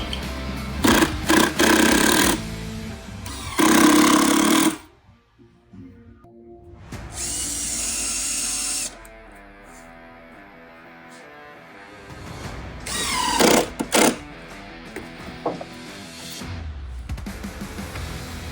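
A power drill drives screws into the wooden box of a luggage trunk being built for a Ford Model A, several loud whirring bursts with short pauses and a softer, steadier stretch of drilling in between.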